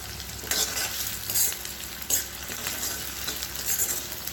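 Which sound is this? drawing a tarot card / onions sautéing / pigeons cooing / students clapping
onions sautéing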